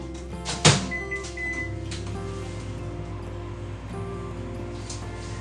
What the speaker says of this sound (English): I'm gonna pop this in the microwave for another 10 seconds